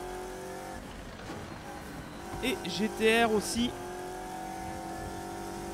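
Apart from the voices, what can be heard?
tires squealing in racing video game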